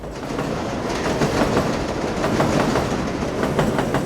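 A New York 7 subway train rolls through Queens with loud, continuous rumbling and rhythmic clickety-clack of wheels over track joints, close by.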